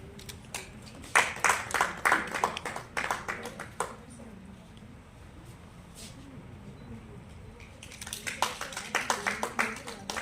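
Audience applause at a Hindi kavi sammelan poetry and music evening: bursts of dense hand clapping from a crowd rise and fade, pause, then return, with someone speaking faintly in the lull.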